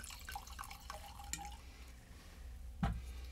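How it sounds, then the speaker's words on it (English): Kenwright Pinot Noir red wine being poured into a glass: faint liquid trickling and dripping at low level, with a brief louder splash or clink near the end. "I'm going to pour a little of this Kenwright Pinot Noir for Tom and myself."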